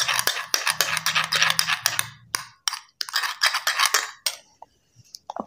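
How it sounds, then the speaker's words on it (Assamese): A metal spoon clinks and scrapes against a container while scooping coconut oil, a string of quick close taps and scrapes that stop near the end, with a low hum under the first half. "এতিয়া নাৰিকল তেল লম মই মোৰ চুলিৰ জুখতে 1 চামুচ ডাঙৰকৈ 1 চামুচ লম"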